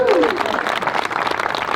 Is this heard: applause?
yes